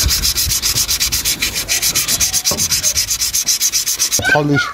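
Deep scratches on a car being rubbed out, a steady rhythmic sanding rasp with quick regular back-and-forth strokes, close and loud, stopping abruptly near the end.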